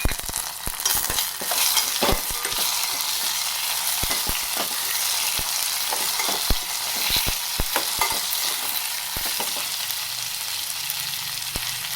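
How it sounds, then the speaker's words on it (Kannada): Finely chopped tomato fries in oil with cumin and a few fenugreek seeds for ridge gourd bajji, a steady close sizzle with frequent sharp clicks and scrapes of a stirring spoon, and no talking. "ಈಗ 1 ಟೊಮೆಟೊ ಸಣ್ಣಗೆ ಹಚ್ಚಿ ಹಾಕ್ಕೊತಾ ಇದ್ದೀನಿ."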